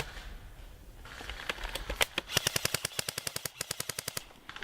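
Video game gunfire: after a quiet start, scattered shots lead into a rapid automatic burst of evenly spaced cracks that fades out near the end, moderately loud with no talk.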